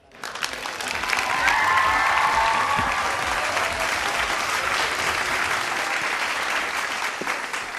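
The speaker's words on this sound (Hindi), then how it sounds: "जोरदार तालियां अंकिता के लिए।" A crowd applauds at a live talent show event in Lucknow, a dense burst of clapping that swells in quickly and holds steady before tapering slightly, with a brief tonal sound early on.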